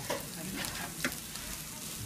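Rib eye steaks topped with herb butter sizzle steadily in a hot pan, a close, continuous frying crackle with no talking.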